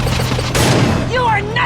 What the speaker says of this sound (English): Watch out for those explosions!